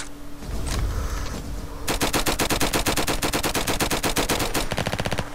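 Rapid automatic gunfire in the Roblox game Flag Wars, a dense, loud stream of evenly spaced shots that starts after a rumbling pause and keeps firing steadily to the end.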